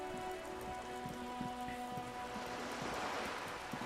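Rain falls steadily in the video game Disco Elysium, a soft continuous patter of drops on surfaces under a faint tonal hum, quiet and even throughout.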